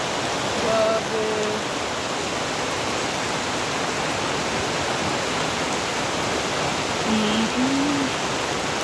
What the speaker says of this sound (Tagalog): floating cottage pag ganito kalakas ang ulan.